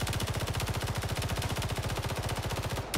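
Rapid automatic gunfire in a Space Engineers first-person deathmatch, a steady even stream of shots at about ten per second for three seconds, stopping at the end, with no talk.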